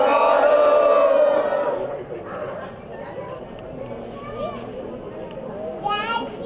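At a village gathering in Ghudani Kalan, a crowd of voices shouts a Sikh jaikara slogan in a loud, ragged burst that fades into murmuring chatter, with a few more shouts rising near the end.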